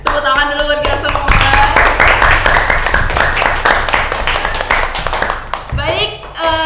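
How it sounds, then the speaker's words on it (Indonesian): Podcast studio hosts and guests clapping, a dense round of applause that fills most of the clip, with voices heard at the start and end. "tepuk tangan dulu buat kita semua"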